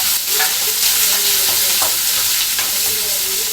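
Crushed garlic and onion sautéing in a pan for a Kerala-style cabbage poriyal, a steady loud sizzle with scattered stirring clicks throughout, no talking.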